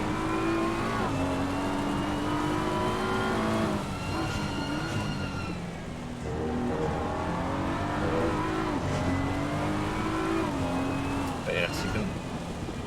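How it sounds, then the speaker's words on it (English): GT3 race car in a sim racing game at the Hungaroring, engine screaming steadily and close, its pitch climbing through the gears and then dropping sharply on repeated downshifts. "Those downshift, it sounds like it's not happy every time."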